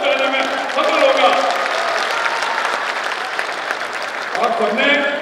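A large crowd at a political rally in India claps steadily and loudly throughout, with a dense continuous wash of applause and no clear break.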